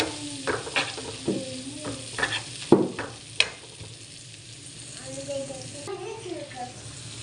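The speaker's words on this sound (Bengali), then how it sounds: "পেঁয়াজ বেরেস্তা ভেজে দিচ্ছি চিংড়ি মাছের জন্য" Onions frying into crisp brown shreds for a shrimp dish, stirred in a pan: steady close sizzle with scraping stir strokes and clinks, loudest in the first half, then a softer hiss.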